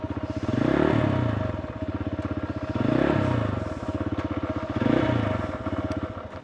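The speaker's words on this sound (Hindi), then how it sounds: "बिना क्लच दबाए मैं गियर डाल रहा हूँ।" Hero XPulse motorcycle with a worn clutch plate being put into gear without the clutch lever pulled: a close, steady engine chug that swells and fades about every two seconds, with mechanical clatter underneath and no talking.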